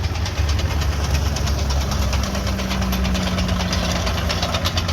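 A Caterpillar diesel tractor engine runs loud and close at a farm show, with a steady knocking chug and deep vibrating rumble that never lets up.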